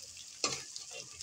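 Food frying in a pan while being stirred, a steady bright sizzle with a sudden scrape and surge of frying as the spatula moves through it.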